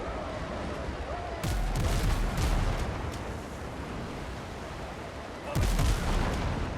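Ship guns boom in a naval video game, firing at an enemy gunboat: two loud broadband blasts about four seconds apart, each trailing into rumble, over a steady bed of game noise.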